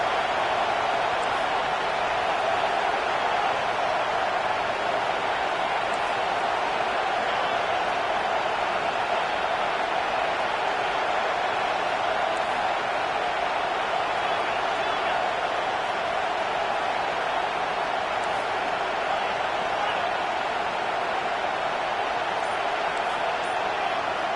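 A packed college football stadium crowd in the SEC roars continuously, a dense, loud, unbroken wash of cheering noise that holds steady throughout.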